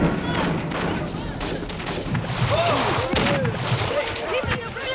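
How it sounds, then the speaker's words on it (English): Heavy gunfire in a Vietnam War reenactment, with repeated thumping shots and bursts at varied distances, mixed with shouting voices and background commotion. "Once on the ground, their unit ran into heavy gunfire."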